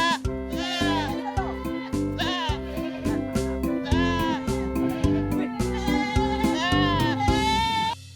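Boer goats on a farm in Calatagan, Batangas bleat loudly and repeatedly, several wavering overlapping calls close by, set against a steady rhythmic musical beat.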